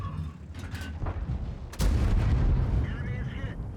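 A fully upgraded M103 heavy tank fires its cannon in World of Tanks. Muffled thumps of distant fire are followed by one loud, close, booming cannon shot about halfway through, which rumbles on afterward.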